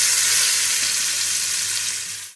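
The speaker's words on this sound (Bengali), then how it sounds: "আমাদের ডিমটা ভাজা কমপ্লিট, এবার আমরা দিয়ে দেবো একটু টমেটো কুচি।" Chopped tomato is added to frying eggs, setting off a loud, continuous sizzle and crackle in a hot pan that fades slightly toward the end.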